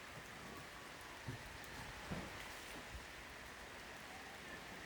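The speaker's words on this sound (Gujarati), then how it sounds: "જો અત્યારે એટલો મસ્ત વરસાદ આવે છે" Heavy rain falls outdoors as a faint, steady wash of patter, with a few slightly louder drops or splashes along the way and no talking.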